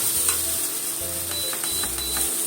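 Scallions and fried tofu pan-frying with garlic give a continuous close sizzle, with faint intermittent tapping of a utensil in the pan and a low hum underneath.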